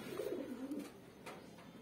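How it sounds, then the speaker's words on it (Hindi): A desi Girebaaz pigeon of an old breed, spotted Kaldumma type, coos in low, throaty, rolling notes, fairly close and steady, with no talking. "पुराने नस्ल का देसी गिरेबाज कबूतर"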